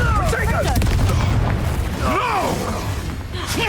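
A heavy booming blast from the Repulsor spell in Hogwarts Legacy, loud and close, with swooping magical whooshes and combat noise during the fight.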